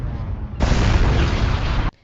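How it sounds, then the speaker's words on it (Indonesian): A loud explosion from a battery blast in a film scene erupts as a sustained roaring burst of about a second and a half, then cuts off sharply, with a rumble running before it. "Akan tetapi Freeze malah tewas karena ledakan dari baterai zipper yang mengakhiri."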